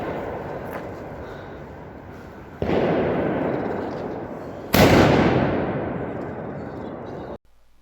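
A zirpaket firecracker bursts twice on New Year's Eve outdoors, each a sharp loud bang followed by a long crackling, fizzing tail that slowly fades before cutting off.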